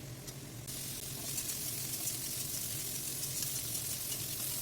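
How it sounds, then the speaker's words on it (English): Cauliflower frying in oil on high flame, producing a loud, constant crackling sizzle that jumps up in intensity after the first moment and holds steady without speech. "fry the cauliflower on the high flame"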